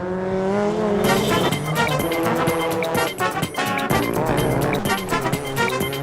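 Scion race cars compete on a track at a historic racing event, a loud, continuous roar of engines with shifting pitch as the cars pass close by.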